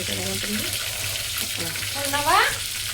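Chana dal and urad dal frying in hot oil for a tempering, a steady close sizzle with a brief stirring scrape near the end, no talking.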